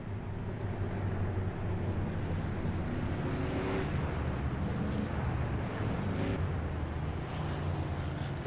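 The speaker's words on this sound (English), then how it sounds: "These cars sound so cool. They sound like a 72 series V8." V8 stock cars race at a 1972 NASCAR Winston Cup event at Charlotte, a steady, distant, humming rumble of engines blending into a continuous low roar.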